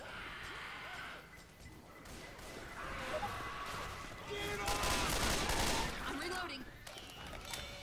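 Gunfire crackles in a zombie shooter video game, with scattered shots and louder bursts building toward the middle amid clattering game noise, while people talk over it at moderate volume.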